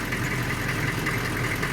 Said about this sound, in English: The engine's running, so warming him up